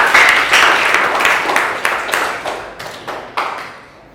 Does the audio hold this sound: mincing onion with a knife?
no